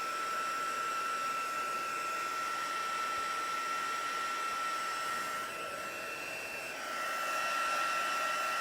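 A blower runs steadily to dry a puddle of water, giving a loud, continuous whooshing roar with a high whine that dips slightly near the end, with no talking over it.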